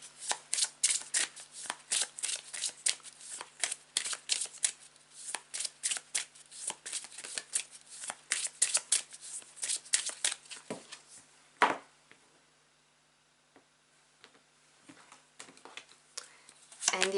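Tarot cards being shuffled and handled close by, with dense riffling and flicking for about eleven seconds, then a single sharp tap followed by quieter rustling.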